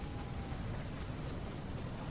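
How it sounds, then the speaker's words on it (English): Storm in the video game Fortnite, a steady, dense wash of rain-like noise that holds at an even level throughout, with no voices. "Here comes the storm again."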